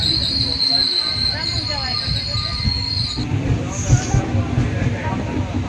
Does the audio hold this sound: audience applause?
no